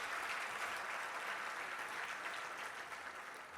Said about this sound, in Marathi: जोरदार टाळ्या त्यांच्यासाठी व्हायला पाहिजे.